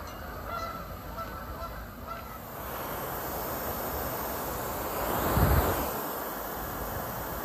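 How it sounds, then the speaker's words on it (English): A flock of geese honks in the distance, with a steady outdoor hiss and insect drone beneath, and the calls swell briefly near the end; no talking. "A bunch of geese, but I do hear it."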